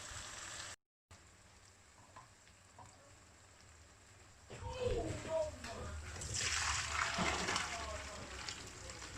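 Cooked noodles are drained, and water pours and splashes loudly after a quieter stretch with faint clatter, then builds into a sustained gush.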